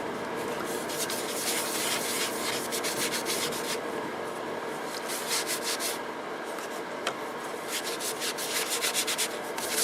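Turned cherry wood being rubbed with sanding sealer on the lathe, a steady soft scrubbing hiss that runs continuously with faint rhythmic strokes throughout, no voices.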